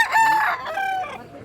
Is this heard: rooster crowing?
yes